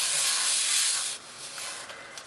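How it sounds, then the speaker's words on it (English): Acetate fondant smoothers dipped into icing sugar and tapped to shake off the excess, giving a brief soft powdery rustle and hiss, close and fairly quiet. "So I'm going to dip my smoothers in the icing sugar like that and just tap off the excess icing sugar."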